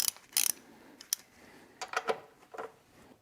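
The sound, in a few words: ratchet with 13 mm socket removing car battery clip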